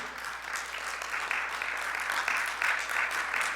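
A church congregation clapping in praise, a sustained, even roar of many hands filling the room from start to finish, with no voices over it.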